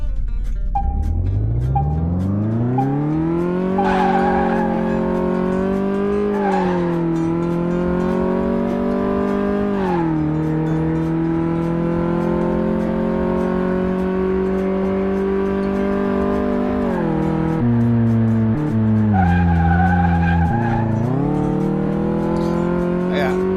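A race car in Car Mechanic Simulator 2018 is driven hard around a lap, its engine note climbing and holding high, dipping briefly at gear changes and corners, and staying loud and close throughout.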